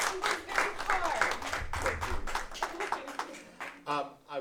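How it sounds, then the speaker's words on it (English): An audience claps for a school vice principal in a hall, with a steady patter of applause, voices talking underneath, and the clapping fading near the end. "Let's give a round of applause."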